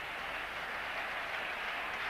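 Stadium crowd at a 1983 India vs South Africa cricket match claps steadily together to cheer a batsman toward fifty, a dense, even wash of distant applause.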